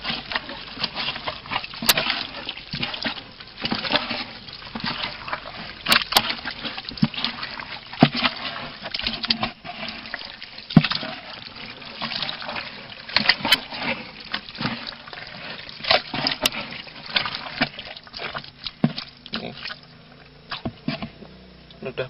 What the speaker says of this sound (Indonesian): Kita aduk-aduk lagi ya,